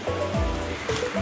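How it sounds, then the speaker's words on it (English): A river rushes past trees near a bench, making a steady, full broadband wash of flowing water that carries on without a break through the short moment. "You can see the rushing water on one side, showing you how a river never sleeps."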